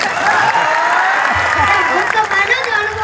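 A school audience at a student raas-garba event in Amrapur claps in a dense, steady wash of applause lasting the whole stretch, with crowd voices mixed faintly underneath.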